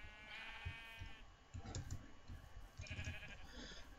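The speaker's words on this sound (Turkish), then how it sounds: "Keçi." A goat in a Minecraft modpack bleats in short, nasal bursts over a low, steady game backdrop, with two separate calls a couple of seconds apart, fairly quiet.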